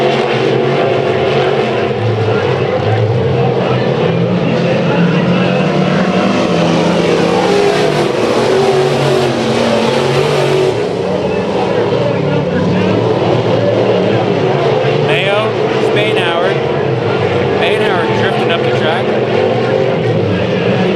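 Race cars roar continuously around the Bakersfield Speedway track during a heat race, a loud, dense wall of engine noise that swells and fades as the pack passes, with an announcer talking over it.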